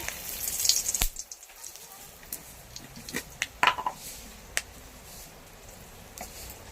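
Dried red chilli and bay leaf hit hot oil for a home-cooked Bengali tempering, giving a quiet, close crackle of scattered sharp pops and spits over a soft frying hiss.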